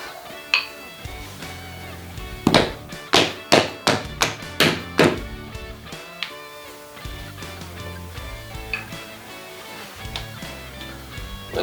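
A rubber door stop bumper is pressed onto a door fitting, giving a run of sharp thunks and taps in a quick cluster, close and fairly loud, with quieter knocks before and after.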